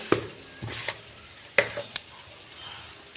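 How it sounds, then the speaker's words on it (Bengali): Soft sizzling in a pan with a few sharp scraping knocks of a spoon stirring, sparse and close. "এখন ভালো করে কষিয়ে নিব মশলাটা, নেড়ে চেড়ে"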